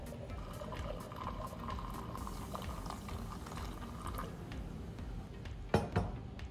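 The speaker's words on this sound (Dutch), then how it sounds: "En ik giet hier 250 milliliter water op" Hot water pours onto 15 grams of coarsely ground coffee in a French press, a steady close bubbling trickle lasting several seconds, ending with a couple of soft clinks.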